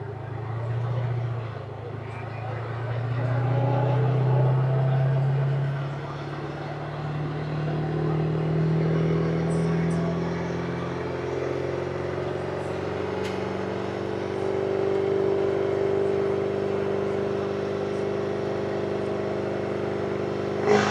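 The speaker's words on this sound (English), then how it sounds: "That sounded like a rev limiter to me." A diesel truck engine at a custom fab open house competition drones loudly and steadily at high revs for a long stretch, holding near a limit with slight pitch wavering against a noisy outdoor crowd.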